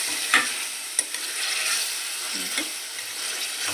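Chopped tomatoes going into a hot pan of ginger-garlic paste for a Telugu-style tomato curry, crackling and sizzling steadily while a spoon scrapes and stirs in a few distinct knocks.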